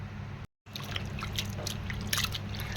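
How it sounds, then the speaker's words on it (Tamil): Meat being rinsed in water with turmeric powder, a steady wet trickling and dripping with small splashes, close by with no talk, broken by a brief gap of silence early on. "இப்போ வந்து மஞ்சப்பொடியை போட்டு இன்னும் ஒரு தடவை வந்துட்டு அலசி எடுத்துக்கலாம்"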